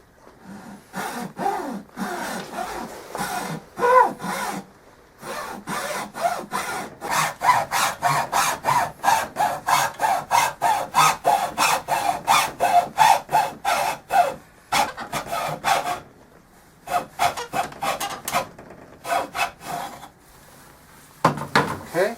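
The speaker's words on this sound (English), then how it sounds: "we're going to use the hacksaw to get a more precise cut" A hacksaw cuts a V-notch into a piece for a homemade pistol stand. Rapid rhythmic back-and-forth rasping strokes run close up, with short pauses between bursts of sawing.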